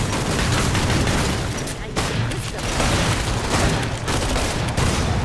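Rapid gunfire and explosions from a frantic zombie video game form a loud, dense continuous barrage with brief dips, as players shout excitedly over the shooting.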